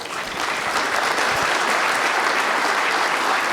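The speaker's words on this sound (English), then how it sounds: "And the crowd acknowledging that good effort." Steady, full applause from an attentive crowd at a nine-ball pool semi-final at the 2023 US Open, sustained and even throughout with no pauses.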